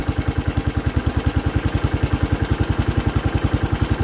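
John Deere 115 lawn tractor running with a freshly swapped engine, a close, loud, steady idle with an even rapid chug of regular firing pulses and no talk.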